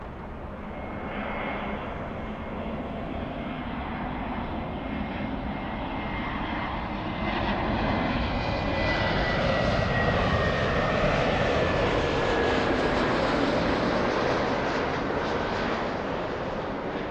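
A Turkish Airlines airliner at LAX powers up, its jet engines giving a broad, distant roar with a thin whine slowly rising in pitch and swelling over about seventeen seconds, heard alone outdoors.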